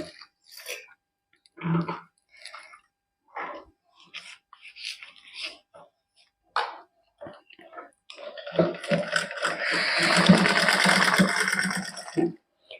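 A sewing machine stitches lace onto a hand-worked suit, first in short separate bursts and then in a longer, louder continuous run of whirring stitches near the end, heard up close.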